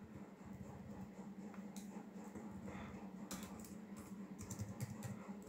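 Typing a command on a phone keyboard in the Termux terminal app on Android, a steady stream of soft rapid taps over a constant low hum, with a few sharper clicks near the end.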